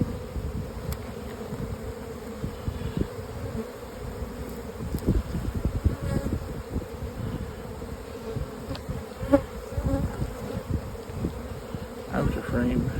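Honey bees drone steadily from an open hive as its frames are lifted and inspected, a dense, continuous close-up hum that holds for the whole stretch with faint handling rustles.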